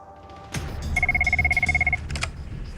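Telephone ringing on an outgoing call, a single steady electronic ring tone lasting about a second, with faint background noise and clicks around it.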